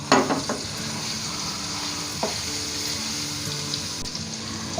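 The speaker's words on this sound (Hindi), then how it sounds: "ऑयल गर्म हो चुका है, तो इसलिए मैं अब इसमें लहसुन डाल दूंगा" Chopped garlic frying in hot oil in a pan, a steady close sizzle with light crackles and stirring scrapes, no talking.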